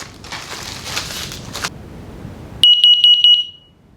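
After a stretch of soft rustling, a battery-operated combination smoke and carbon monoxide detector blares a loud, shrill pulsing beep for about a second before cutting off.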